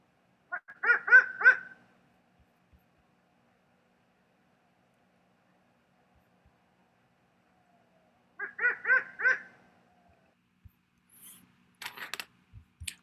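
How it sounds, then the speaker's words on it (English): Adult great horned owl calling in mountain country, two bursts of deep rhythmic hooting separated by a long silence, followed by faint scattered rustles and clicks. "So that's a great horned owl."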